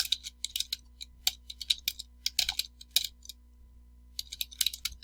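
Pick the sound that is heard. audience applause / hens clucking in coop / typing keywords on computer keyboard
typing keywords on computer keyboard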